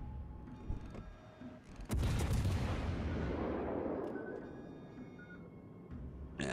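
Warship artillery in the naval game World of Warships: Legends, firing on the Graf Spee: a sudden heavy gun blast booms up close, then a long rumbling decay fades under faint background battle noise.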